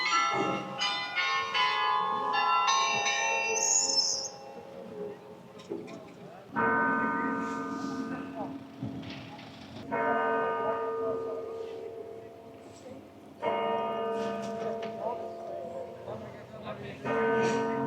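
Several large church bells in Delft ring in overlapping, steady peals with long resonant tails, loud and close, with a voice briefly heard partway through.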